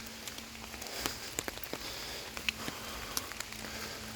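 Rain falling on soft ground outdoors, a steady faint patter with scattered sharper drips and taps throughout.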